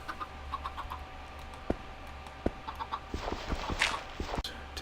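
Chickens cluck softly in an egg farm video game, a scattering of short clucks and light taps that grows busier toward the end.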